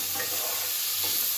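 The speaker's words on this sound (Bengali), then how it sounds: "সামান্য হলুদ আর নুন দিয়ে একটু ভাজা করে চিকেনটাকে আগে তুলে রাখবো" Chicken frying with a little salt and turmeric in a pan, a dense, constant sizzle with faint stirring scrapes, close and steady with no talk.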